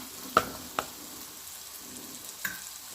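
Sautéing for a potato fry in a pan: a faint, low sizzle runs underneath while a few sharp spatula taps sound against the pan. No one talks.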